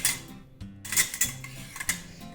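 Small steel plates and pot lids set one by one into a kitchen dish stand, giving several close clinks and clatters of metal on metal in quick, irregular succession with no talking.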